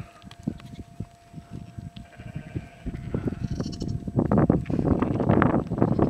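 Sheep in Iceland bleating, a flock of overlapping calls that start sparse and grow into a loud, dense chorus of near and distant bleats, with no talking.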